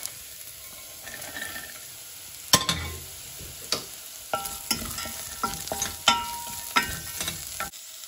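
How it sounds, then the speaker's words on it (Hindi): Roasted peanuts drop into potatoes frying in a pan for batata poha, followed by a spoon scraping and stirring with sharp metallic clinks over a soft sizzle, close by with no talk. "आनी आतां रोस्ट केलो ही भिकड घालया."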